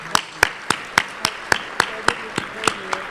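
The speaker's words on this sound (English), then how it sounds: "Now that deserves a round of applause." One person claps at an industry awards dinner, about a dozen sharp, evenly spaced claps in steady rhythm, moderately close, with faint room tones in between.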